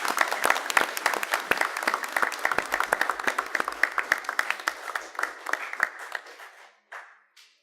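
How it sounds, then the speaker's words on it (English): A school board meeting audience bursts into steady, dense applause that holds loud for several seconds, then thins out and fades to a few scattered final claps. "give her a big round of applause"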